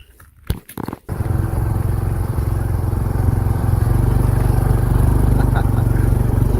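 A 2022 Honda Trail CT125 motorcycle on the move. After a second of brief clatter, its small engine settles into a loud, steady, close drone that holds and builds slightly to the end.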